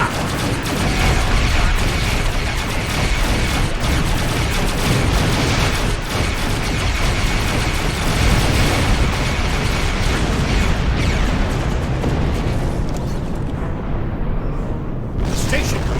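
A space station's defensive cannons fire on a ship in Star Trek Online, a loud, dense, unbroken barrage of bursts and mechanical clatter that thins out only near the end.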